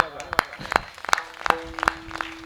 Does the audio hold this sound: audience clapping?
yes